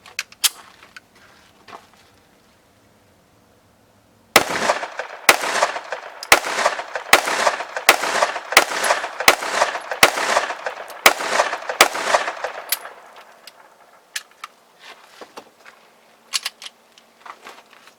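A subcompact Springfield XD 9mm pistol fires a rapid string of about a dozen sharp, loud shots, closely and evenly spaced, then falls quiet apart from a few faint clicks and handling noises.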